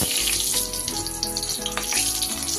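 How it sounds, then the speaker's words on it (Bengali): Nigella seeds and slit green chillies hit hot mustard oil, giving a loud, steady crackling sizzle with scattered pops throughout. "দিয়ে দিচ্ছি সামান্য একটু কালো জিরে ফোড়ন, আর দিয়ে দিলাম দুটো কাঁচা লঙ্কা চিড়ে দিয়ে দিচ্ছি"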